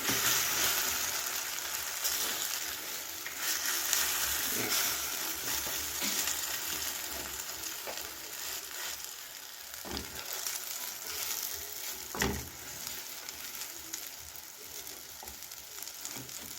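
A vegetable egg omelette fries in a pan, giving a steady close sizzle with scattered crackles and occasional scrapes of a spatula pressing it down, with no speech.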